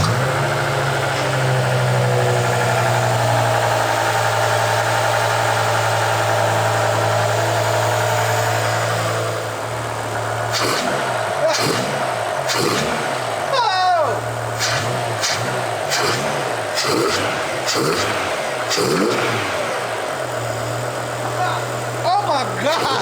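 An E60 BMW M5 V10 with its intake plenum open and velocity stacks exposed idles with a steady low drone, then revs sharply in a series of loud throttle blips that snarl and crackle up close, with voices in the background.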